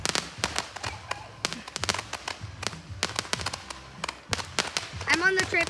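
Fireworks and firecrackers popping in sharp irregular bursts, some in quick rapid strings, moderately near, with people's voices and cheering in between outdoors.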